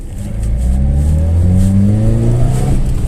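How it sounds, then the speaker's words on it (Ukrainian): A VAZ 2108 with a 1.3 engine and a tuned, rebuilt Solex carburetor accelerates from near idle, the engine note rising smoothly and steadily, loud and close from inside the car with no talking. "Ось ми їдемо, ледве-ледве їдемо, майже на холостому і нажимаємо на педаль."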